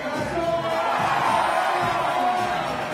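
Home crowd at a FIBA 3x3 World Tour Masters basketball game in Lausanne, Switzerland, roaring and cheering in a loud, continuous wash of voices with whoops rising throughout.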